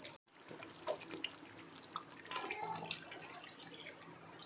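Water pours into a thick mackerel curry in a pot, a quiet continuous trickle and splash heard close by with no talking.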